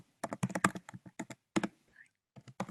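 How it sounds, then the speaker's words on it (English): Keyboard typing picked up on an open line during a remote board meeting call, with short clustered bursts of clicks and brief pauses between them. "Somebody's typing."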